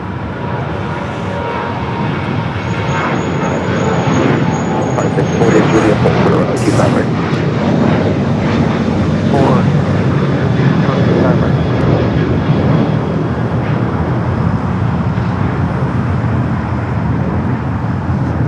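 A United airliner departing LAX, a loud, steady jet roar that fills the whole span, with traffic hum beneath and faint voices in the background.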